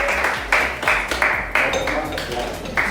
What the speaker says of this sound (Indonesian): beri tepuk tangan dong buat kelompok Akila ya